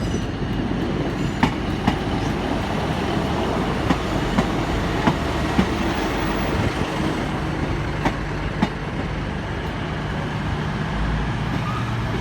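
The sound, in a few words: Class 150 train 150.221 arriving at Exeter St David's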